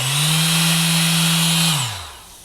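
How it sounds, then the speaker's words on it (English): A Mirka dust-free electric orbital sander with a large 3/16 orbit switched on and running, a loud steady close hum with a high whine that then winds down as it stops. "You simply take the power cord, plug it in, turn it on, and you're ready to sand."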